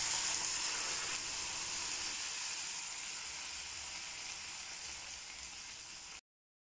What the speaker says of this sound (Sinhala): දැන් මම මේකට වතුර අඩු කෝප්ප භාගයක් විතර එකතු කරගන්නවා.